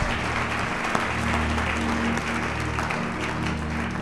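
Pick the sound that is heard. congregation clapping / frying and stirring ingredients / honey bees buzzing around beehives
congregation clapping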